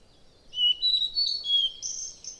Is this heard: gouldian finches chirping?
yes